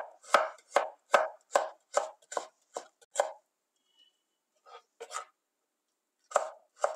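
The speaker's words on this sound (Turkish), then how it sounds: "Hemen minik minik bunları da doğruyorum." A knife finely chops vegetables on a cutting board in a kitchen with crisp, evenly spaced strokes, about a dozen in a steady run, then a pause and a few scattered chops, loud and near.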